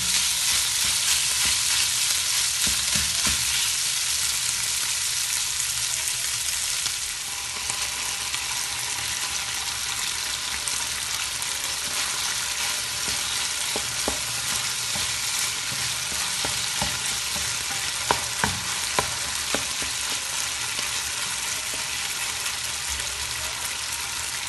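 Beef sizzles steadily as it fries in a pan over medium heat, a continuous close crackle with occasional louder spits and stirring scrapes throughout.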